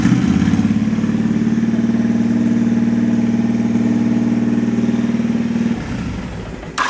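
A 2007 Honda VTX 1300 motorcycle with 30,000 miles runs at a steady, deep, throbbing idle close by, then the engine note drops away near the end, with no speech over it.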